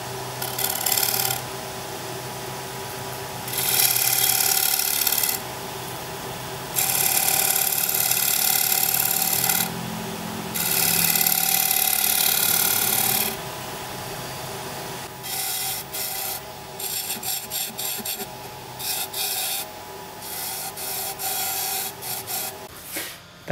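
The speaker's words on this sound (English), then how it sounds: "So I just use my spindle gouge and fiddle around with that to get that nice, a nice curve happening" A spindle gouge shapes a curve on spinning wood on a lathe in repeated loud bursts of cutting and scraping, separated by quieter pauses, then shorter choppy passes.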